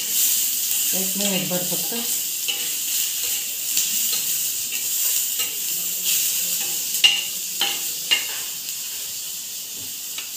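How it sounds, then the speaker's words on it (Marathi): Garlic and a piece of ginger sauté in a pan with tomatoes, a steady sizzle and hiss broken by scraping stirs and light clicks, and someone speaks briefly over it. "त्यातच थोडंसं लसूण आणि हे आल्याचा तुकडा ते पण मी थोडंसं परतून घेते त्याला"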